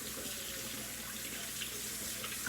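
Tap water runs steadily into a container in a kitchen, a continuous close splashing rush with no pauses and no voices.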